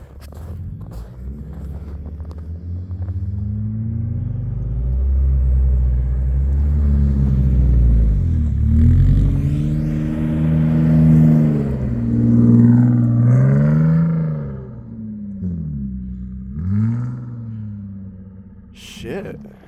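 A car engine revs under throttle while driving in snowy blizzard conditions, a loud, close rumble rising and falling over several seconds with engine pitch sweeping up and down, and voices speaking over it.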